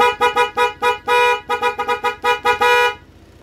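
A Honda PCX 160 motorcycle horn honks over and over in quick, loud bursts of uneven length, ending with one longer blast before cutting off.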